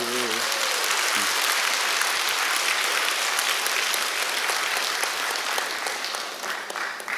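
Enthusiastic audience applause during a lecture on the secrets of the wealthy, a dense burst of clapping sustained for about seven seconds, close and loud, briefly preceded by a voice at the start.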